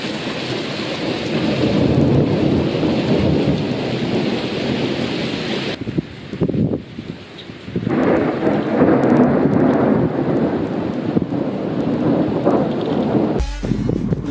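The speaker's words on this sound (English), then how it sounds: "was the awesome thunderstorm" Heavy rain pours down through a thunderstorm, with long, deep rolls of thunder rumbling beneath the steady hiss and a sharp loud crack near the end.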